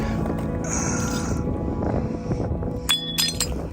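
Old glass bottles clink and rattle in a desert bottle dump, with a few sharp clinks standing out over steady rustling background noise.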